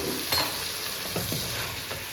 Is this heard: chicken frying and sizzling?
yes